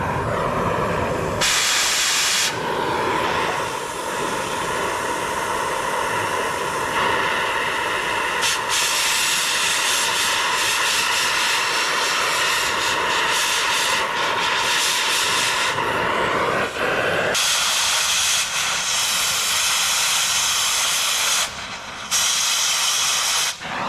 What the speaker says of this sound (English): Just gonna go ahead and torch the bolts off underneath.